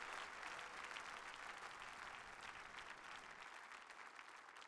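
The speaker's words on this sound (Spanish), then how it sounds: "da un fuerte aplauso para el Dios hacedor de milagros." A church congregation at an evangelistic sermon service breaks into strong, continuous applause, a dense even wash of clapping that holds steady throughout with no talking.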